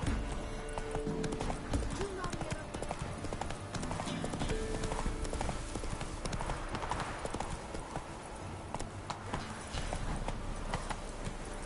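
In The Witcher 3: Wild Hunt, a horse trots steadily on, its rhythmic clip-clop of hooves continuing under a man's speech, with brief horse snorts mixed in.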